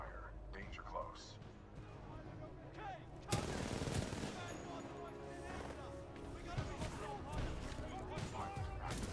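In the video game Titanfall 2, the titan BT lays down supporting gunfire, a sudden burst of heavy rapid shots that sets off a sustained loud volley with talking voices over it.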